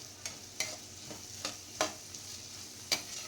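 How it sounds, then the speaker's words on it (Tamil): Onions sautéing in butter with cumin in a pan for Gujarati-style pav bhaji, a soft steady sizzle broken by a handful of sharp spoon scrapes and stirs at irregular intervals, close and alone. "இந்த பட்டரில் நல்லா வெங்காயம் வதங்கும் போது"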